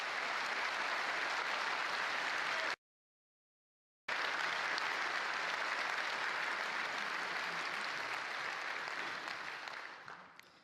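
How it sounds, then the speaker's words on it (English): Steady applause from a crowd fills the space, breaks off abruptly for a moment, then resumes and gradually fades out. "Please give them an applause."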